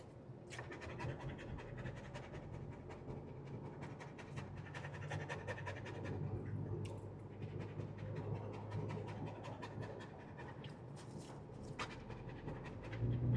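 A dog in a car on a road trip pants rapidly and steadily close by, over a low road rumble, with no voices.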